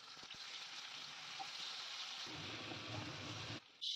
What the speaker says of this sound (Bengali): এবার আমি ঢ্যাঁড়সগুলো হালকা করে ফ্রাই করে নেব